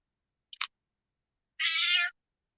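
An indoor cat gives a quick double chirp, then after a pause a single clear, drawn-out meow lasting about half a second, close and isolated against silence.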